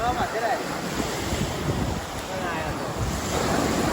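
Sea waves wash steadily onto the shore at Dwarka at night, a continuous broad rushing surf mixed with wind buffeting the microphone, with faint voices in the background.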